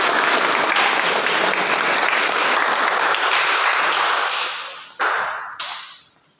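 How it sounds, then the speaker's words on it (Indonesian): A church community audience applauds loudly and continuously during a sermon, then the clapping trails off with a few final sharp claps. "Tepuk tangan."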